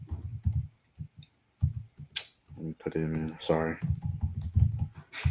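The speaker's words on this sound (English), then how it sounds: "You typing hard as hell. You about to break the keyboard." Hard, forceful typing on a computer keyboard, with bursts of loud clacking keystrokes under and between a man's speech.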